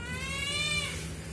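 A big, chubby male tabby cat gives one long, loud, drawn-out meow at close range while demanding food, rising and then trailing off, alone without talk.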